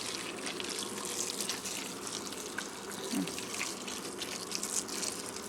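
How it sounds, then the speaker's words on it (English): Hot water runs and splashes faintly into a cooking pot for several seconds, a soft continuous gush with small bubbling irregularities. "I'm gonna add water to it"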